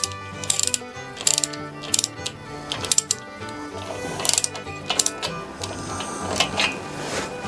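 A ratchet wrench snugs down bolts with rapid bursts of metallic clicking, several quick runs of pawl ticks separated by brief pauses, close and crisp.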